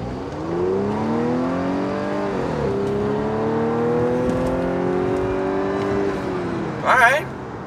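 A supercharged Audi runs on a test drive after a DIY engine repair, its engine note droning steadily and rising in pitch as it accelerates, dipping briefly at a gear change, then climbing again, with a short sharp noise near the end.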